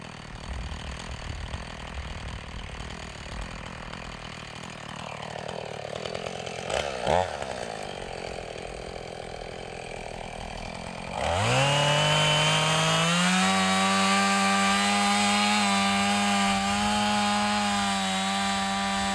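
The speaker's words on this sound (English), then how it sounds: "Just got the chainsaw serviced" A freshly serviced chainsaw cuts felled trees into firewood logs at a country house in Italy. A quiet stretch with a brief knock comes first, then the saw bursts into a loud, steady, high whine that holds to the end.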